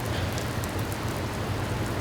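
Steady rain pours down in Orange County, California, a dense continuous hiss of drops on surfaces with a low rumbling undertone, loud and unbroken with no voices.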